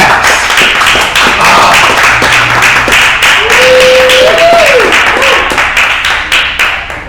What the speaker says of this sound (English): Yes, these claps are real.